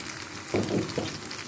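Chopped onion frying in melted butter in a pan, a soft steady sizzle with a couple of brief louder bursts as the pieces hit the fat or get stirred.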